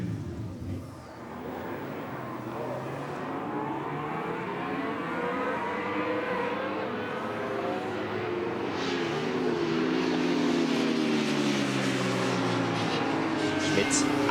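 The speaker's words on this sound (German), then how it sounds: "Die Motoren werden angelassen" Pro-Superbike racing motorcycle engines start up at Oschersleben in 1998, a dense, steady mechanical drone that swells and rises in pitch as the revs climb, loud and continuous throughout, with a voice faintly beneath.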